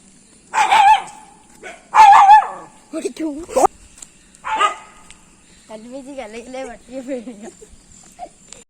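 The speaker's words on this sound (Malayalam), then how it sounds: "ഇവിടെ ഒക്കെ പട്ടികളുണ്ട്" A dog barks a few sharp times nearby, followed by quieter whining yips, with people speaking in between.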